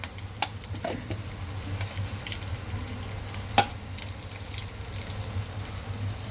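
Mustard seeds and cumin crackle and sizzle in a pan of hot oil while varan (dal) is cooked at home. It is a steady, soft frying hiss with a few small pops and one sharper crack near the middle.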